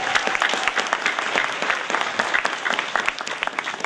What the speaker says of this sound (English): So let's give both of our gentlemen a nice round of applause.